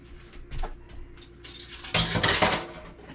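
A spoon clinks and rattles against dishes in a home kitchen, a few light taps followed by a louder, busier burst of metallic clatter close by, with no talking.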